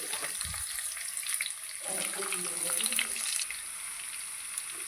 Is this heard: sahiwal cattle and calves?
no